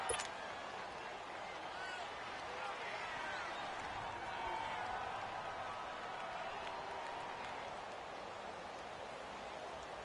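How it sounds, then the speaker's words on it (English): A stadium crowd roars steadily in an American football video game as the home fans in Cleveland make noise on a fourth-quarter third down against the Chargers, a dense, continuous wash of cheering that holds loud for the whole stretch. "this crowd urging on their defense. They're up and making noise"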